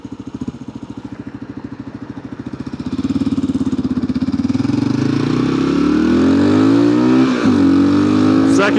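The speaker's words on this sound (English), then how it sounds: "we're gonna give the KLR a little top speed run with the 14 tooth" A Kawasaki KLR650 single-cylinder adventure motorcycle with a 14-tooth front sprocket accelerates hard on a highway, its loud thumping engine climbing in pitch through rising gears with heavy wind roar, and a rider talking briefly.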